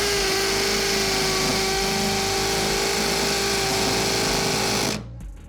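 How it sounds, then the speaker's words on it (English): A power drill fitted with a wood brad point bit grinds into a concrete block, giving a loud, steady, buzzing whine that holds for about five seconds and then stops abruptly. "This is a wood drill bit. You can see the brad point, which is going to be absolutely decimated by this concrete block."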